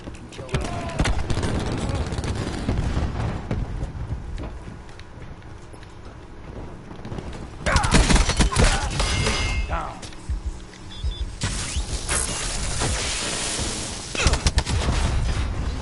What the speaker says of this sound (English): Cluster grenade.